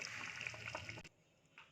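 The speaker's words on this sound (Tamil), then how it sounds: "அதுக்கு 7 டம்ளர் தண்ணி ஊற்ற போகிறோம் நாங்கள்." Water poured into a pot of plain rice being readied for egg biryani, a close splashing, trickling pour lasting about a second before it stops abruptly, followed by quiet with a faint brief splash.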